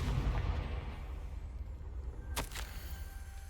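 Confringo fire spell from Hogwarts Legacy, a fiery blast with rumbling low boom that rolls across the clip and sharp crackling bursts near the end, no talk.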